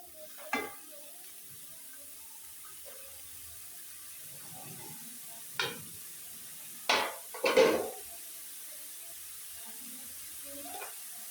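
Leafy greens drop into a hot, dry wok with no oil, giving a steady low sizzle broken by a few sharp scraping and clattering bursts of stirring.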